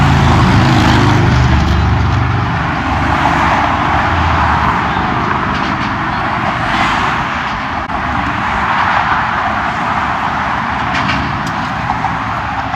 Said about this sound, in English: So I apologize about the road noise,